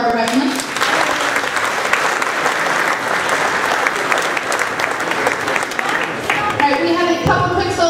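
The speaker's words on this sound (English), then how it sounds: "So we'll give a round of applause for our percussionists." Audience at a school winter instrumental concert applauds percussionists, a loud, steady wash of clapping lasting several seconds before fading, with voices briefly audible near the end.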